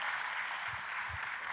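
A church congregation claps and cheers in a large worship hall, a dense, steady burst of applause filling the space.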